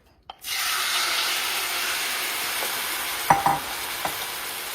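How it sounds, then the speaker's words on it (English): Shrimp sizzle loudly and steadily in a hot sauté pan after landing with a burst, and a couple of brief utensil clinks break through partway. "So then we're just gonna cook up our shrimp."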